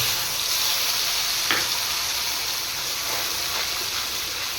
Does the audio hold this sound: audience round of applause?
no